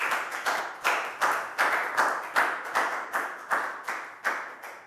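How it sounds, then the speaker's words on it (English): Classroom applause for a student at a maths lesson: a small group claps in steady, separate bursts, roughly a dozen distinct claps over five seconds, close and moderately loud with no talking. "High five and a big round of applause for Pak Bung, guys."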